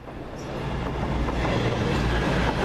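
A Class 185 passenger train heading to Scarborough runs past a station platform, a loud continuous roar of wheels and engine building slightly over a few seconds, with no voices.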